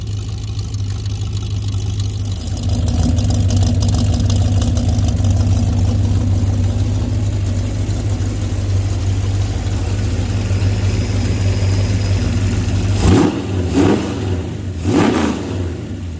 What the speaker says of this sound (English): Sound like an old pickup truck running?